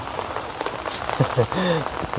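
Heavy rain pours down during a rural downpour in Thailand, a steady broadband wash of drops drumming on surfaces while people talk loudly over it nearby.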